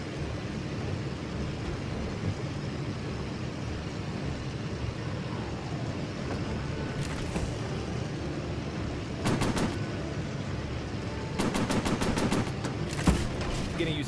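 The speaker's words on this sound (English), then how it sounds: "Machine guns overheating." Machine gun fire in a WW2 virtual reality combat game, heard as several short rattling bursts over a constant rumble of aircraft engine noise.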